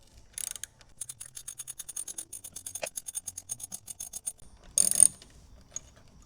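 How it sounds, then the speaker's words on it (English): A 10mm ratchet wrench turns a bolt out on a Fisker Ocean, giving a steady run of quiet, close clicks in a regular rhythm, with a brief louder rustle near the end and no talking. "I am going to take the 10mm ratchet wrench here"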